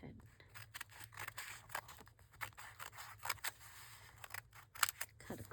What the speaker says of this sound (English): We'll use a pair of regular scissors.